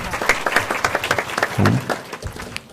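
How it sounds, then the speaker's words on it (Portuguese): An audience at a library event claps in a short burst of applause, loud and close, with individual hand claps standing out and a brief low voice or bump partway through. "uma salva de palmas"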